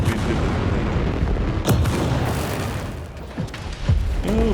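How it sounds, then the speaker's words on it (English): Incoming missile fire in the robot combat game War Robots: Frontiers: sustained booming rumble with several sharp whooshing impacts and launch streaks, loud and continuous throughout. "Oh goody, incoming missiles"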